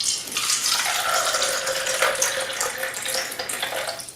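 Tap water runs steadily into a cup for a tea test, a continuous splashing hiss that holds at an even level for a few seconds with no talking.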